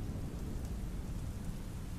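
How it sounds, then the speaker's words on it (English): Steady rain pouring in a thunderstorm, a continuous dense hiss with low rumbling underneath, fairly quiet and unbroken, with no voices. "A storm filled with fist-sized hail, and chilling gusts and enough rain to turn the fields into mud"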